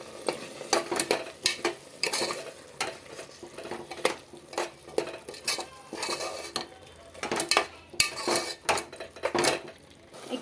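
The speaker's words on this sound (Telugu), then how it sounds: "ముక్కలు అయితే వేసేసుకుందాం వేసుకొని బాగా కలుపుకుందాం" Potato pieces stirred in a metal pot for vegetable biryani and aloo kurma, a spoon scraping and clinking against the sides in steady, close repeated strokes, with a faint sizzle underneath and no voices.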